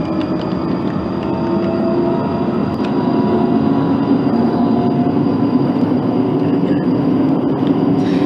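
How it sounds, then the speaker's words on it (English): Simulated London Underground Northern Line train in the OpenBVE simulator starting up, a loud continuous electric hum and rumble with steady motor tones held throughout, no talking. "It does take quite a long time to start up these trains"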